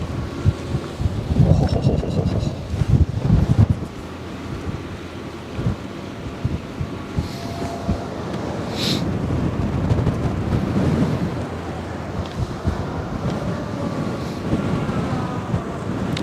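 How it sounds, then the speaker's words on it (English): Strong gusts buffet the microphone on the Westerschelde riverbank, a steady rumbling roar with harder bursts early on and some faint water and distant shipping texture underneath. "Dude, but the wind is crazy right now."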